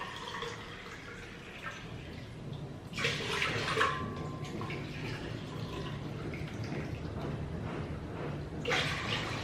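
Water pouring into a cooking pot to boil for smoked pork, a steady splashing rush with a louder surge partway through and another near the end, heard close up with no talk.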